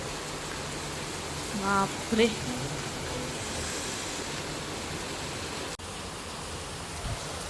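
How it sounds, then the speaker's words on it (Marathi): Heavy monsoon downpour pouring down and pooling water on the ground, a dense steady hiss of rain throughout, with a brief exclamation from a woman partway through. "खूपच जास्त पाऊस आहे आजचा"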